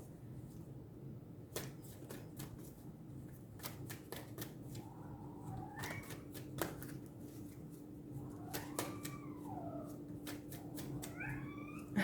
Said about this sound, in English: The cat. She's crying.